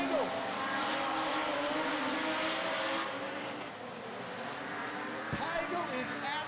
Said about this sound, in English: So Raymond has got no exhaust on that car at all.